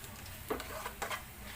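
Onion browning in a pan gives off a faint steady sizzle, with a few soft spoon-stirring scrapes and taps over it.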